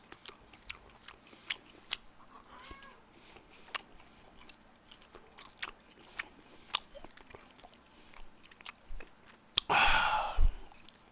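Close-up chewing and biting of lobster meat, with soft wet crunches and squishy mouth sounds repeating through the clip and a louder crunching burst near the end, no talk.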